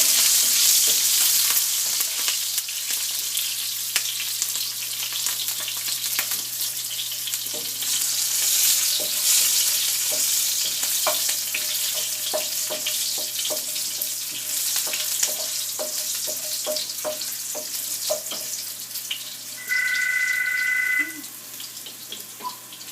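Green chilies frying in a pan for garnish, a soft steady sizzle with scattered crackles and light stirring, fairly quiet and close.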